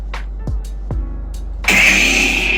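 A Sabertrio Neo Senza lightsaber starts with a few soft clicks and sweeping tones, then bursts into a loud, sustained buzzing hum that keeps going to the end.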